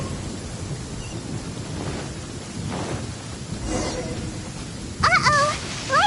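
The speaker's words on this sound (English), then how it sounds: "Uh-oh! Lightning storm!" Rolling thunder from a lightning storm in the video game Genshin Impact, a low continuous rumble with rain-like hiss that swells midway, then bright chirpy game sounds rising over it near the end.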